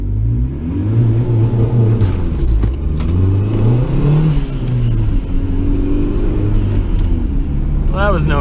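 Turbocharged Honda CR-V engine pushed to full throttle, its loud close revs climbing and sliding in pitch in repeated sweeps, with a steady rumble throughout.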